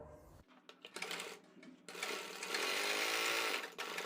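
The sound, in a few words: sewing machine stitching a kurti collar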